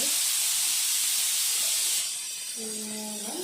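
A kitchen pressure cooker whistle, its fourth, lets out a loud steady hiss of escaping steam that cuts off at about two seconds, followed by a faint tonal whine as it settles.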